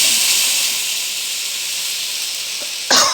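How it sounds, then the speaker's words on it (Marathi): Water poured into a hot pan of masala and drumsticks hisses steadily with a broad, even steam sound, then flares into a brief louder burst of sizzling near the end. "पा पाणी घालायचं मैत्रिणी"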